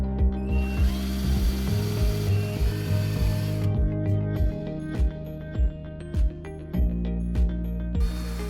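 Power drill pre-drilling holes for cabinet hinges in a workbench build, a loud steady motor whine broken by rhythmic clicking ratchet-like pulses, close and alone without talk.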